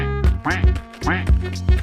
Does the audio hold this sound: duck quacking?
yes